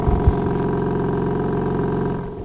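A steady, low engine rumble from a 2024 BMW M4 Competition xDrive's stock exhaust idling close by, even and continuous, with a slight dip at the end.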